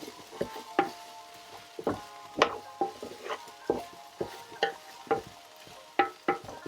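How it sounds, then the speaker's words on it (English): Beef stew ingredients are stirred in a Ninja Foodi pot, a steady series of close scraping knocks of a utensil against the pot at an irregular rhythm, roughly one or two per second over a quiet sizzle. "Give that a stir around so that we try not to burn it"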